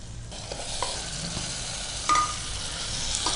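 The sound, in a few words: chicken added to a pan, frying with fenugreek leaves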